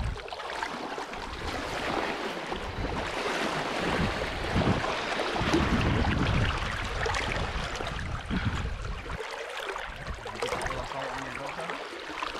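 Mill Creek flowing past in a steady rushing wash, loud and broad, with wind gusts and water splashing close by throughout.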